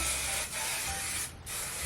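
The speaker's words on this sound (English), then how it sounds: "Let's do one last little spray of hairspray." Hairspray misted onto hair during an at-home blowout with rollers, two continuous close aerosol hisses with a short pause between them and a brief break near the end, loud and with no talk.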